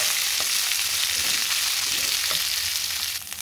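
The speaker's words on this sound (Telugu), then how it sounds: "ఇది బాగా పచ్చి వాసన పోయే వరకు వేయించుకోవాలి" Green chillies fry in a pan for raw tamarind pickle, giving a steady, close, full sizzle with faint stirring scrapes throughout and a slight dip near the end; no one speaks.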